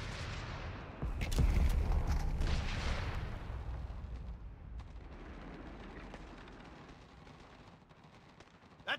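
Gunfire and artillery from the Company of Heroes 3 video game, on an Italian beach landing map, rumble in a dense, continuous barrage with a heavy blast early on and scattered sharp shots after it.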